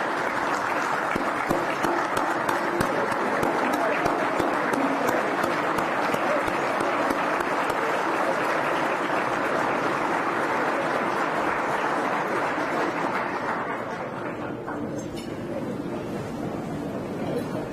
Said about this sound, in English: Please stand and let's give them a round of applause.